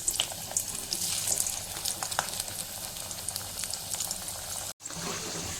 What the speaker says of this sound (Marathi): हे बटाटे आपण फ्राय करून घेऊया तेलात